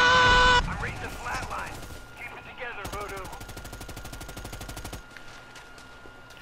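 Automatic gunfire from the multiplayer shooter Predator: Hunting Grounds, rapid steady bursts of machine-gun fire running through most of the stretch, with game effects and voices mixed in.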